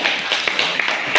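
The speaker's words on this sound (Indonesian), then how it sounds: "beri tepuk tangan dulu" An audience clapping after a student presentation during a practical exam, a brief dense burst of hand claps heard close and fairly loud, with individual claps popping out of the patter.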